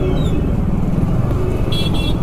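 Busy street traffic in Ahmedabad's old-city market area, a continuous loud roar of cars and motorcycles close by, with brief horn toots near the end.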